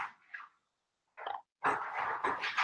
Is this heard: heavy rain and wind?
no